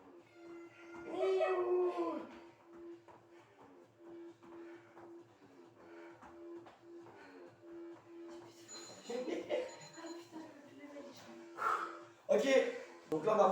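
During a HIIT workout session, a house cat gives a few short meows that rise and fall, mixed in with a person talking and a steady electronic tone in the background.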